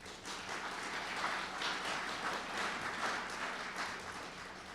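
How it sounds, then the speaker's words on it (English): Audience applause fills a Pennsylvania 1st district congressional debate hall in 2018, a dense, steady crackle of many hands clapping from start to finish with no voices over it. "We got that applause out of the way."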